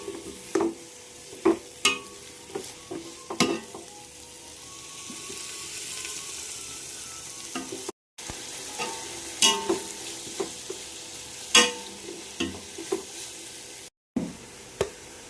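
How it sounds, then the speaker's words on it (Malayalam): Onions sautéing in a pan for chicken dum biryani, a soft steady sizzle broken by repeated sharp spatula taps and scrapes, with two brief silent gaps. "നല്ലപോലെ വഴറ്റി കൊടുക്കും"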